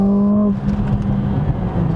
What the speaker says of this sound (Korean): 가속 페달을 조금만 밟아도 진짜 너무 무섭게 튀어나가서 함부로 스로틀을 과격하게 제어할 수가 없어요